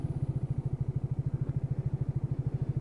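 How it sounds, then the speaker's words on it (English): A Keeway K-Lite 125cc motorcycle engine pulling up a slope, a steady, fast low thumping pulse that stays close and even throughout, with no talk over it. "we're just going to see what this is like pulling up a slope when the lights change, just to see how torquey this little engine is"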